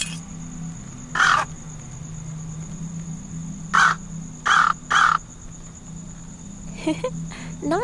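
In the video game Anna's Quest, a crow caws on a roof in four or five harsh, separate calls spread over several seconds, set against a steady hum and chirping insect ambience.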